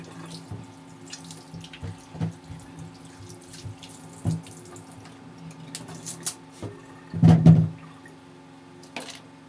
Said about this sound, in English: Here is the plantain. What I will do now, I will have to wash it.